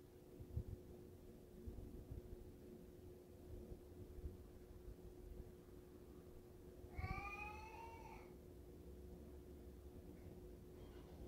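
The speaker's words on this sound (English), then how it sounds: "That is my cat." A cat meows once in a short drawn-out call partway through, fairly close, against a quiet room with a steady electrical hum and no talking.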